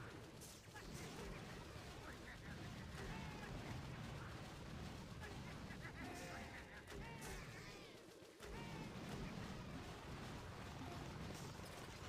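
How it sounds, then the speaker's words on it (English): Shock launchers firing on bombardiers in Boom Beach, a dense faint barrage of blasts and crackling bursts running continuously under game music and a talking voice. "now the shock launchers are shooting the bombardiers"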